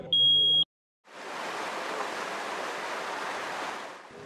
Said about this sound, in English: A smoke detector.